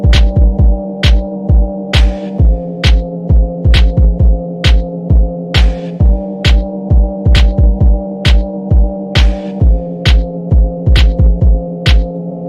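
A dance beat loop pitched down two half steps pulses steadily with a punchy kick and crisp hits over a droning sustained tone, loud, repetitive and alone.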